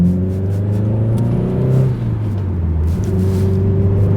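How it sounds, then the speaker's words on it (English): A Subaru Impreza STI Type 25 engine hums and revs under acceleration, its deep, not-too-loud exhaust tone rising in pitch, easing briefly, then climbing again. "The exhaust as well, it's not loud and obnoxious, it's actually a really nice tone."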